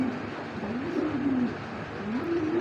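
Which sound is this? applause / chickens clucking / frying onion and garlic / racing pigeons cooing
racing pigeons cooing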